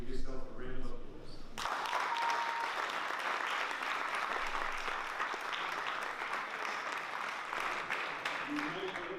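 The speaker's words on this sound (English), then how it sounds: "Give yourself a round of applause." Graduates and staff at an agribusiness institute graduation ceremony burst into applause after a brief spoken moment, the clapping dense and sustained to the end.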